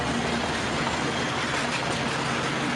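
A smoky train in Rio de Janeiro rumbles past in a continuous dense roar, loud and close, with a faint rhythmic clatter under the engine noise.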